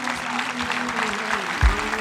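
Steady applause from a church congregation fills the space, continuous and moderately loud, with a low thump near the end.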